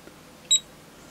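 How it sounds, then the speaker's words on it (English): A Keysight U1282A handheld multimeter gives a single short, high-pitched electronic beep on switch-on, sharp and clear against near silence. "Sound is beep when you turn it on."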